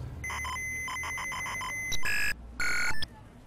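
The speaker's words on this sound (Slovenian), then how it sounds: "Softver je bil včasih zakodiran zvočno, kot faks, ne, ki se digitalni signal prenaša po čist navadnem analognem zvočnem kablu." Computer software loading from an audio cassette, heard as fax-like electronic tones: a pulsing, beeping series of short tones followed by two louder sustained screeching bursts. The sound is steady, close and alone.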